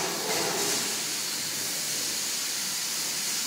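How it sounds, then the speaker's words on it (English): Continuous loud hiss of steam exhausting from the cylinder of a Winterthur compound steam locomotive, close and steady throughout with a slight surge near the start and no speech. "We're just exhausting the steam from the side we put it in."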